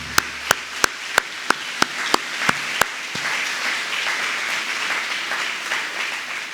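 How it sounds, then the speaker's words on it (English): Applause at a 2021 Chamber of Commerce awards banquet for Brian Durham. A few sharp, regular claps close by open it, then broad audience clapping spreads and holds steady to the end. "let's give Brian Durham a round of applause."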